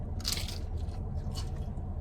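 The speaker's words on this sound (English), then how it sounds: "I love how their shells aren't chewy. They're very crunchy." Close, crisp crunching of a hard Taco Bell taco shell being bitten, two bright bursts of crackle over a steady low background hum, with no talking.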